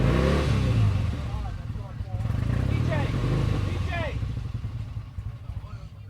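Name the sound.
1968 Triumph Bonneville motorcycle engine revving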